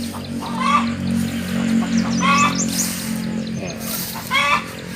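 A backyard hen cackles in short bursts, about three separate clucking phrases spaced across the stretch, close and clear over a steady low hum.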